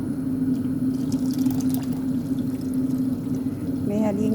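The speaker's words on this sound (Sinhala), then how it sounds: "ඊළඟට වතුර ටික දාන්න." Water is poured into a cooking pot of tomato curry, making a continuous low splashing fill that runs steadily and ends with a brief higher trickle.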